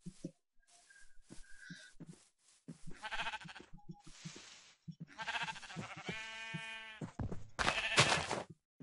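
Sheep in the Minecraft video game bleat several times in quick succession, with clear repeated calls standing out over quieter background game sounds.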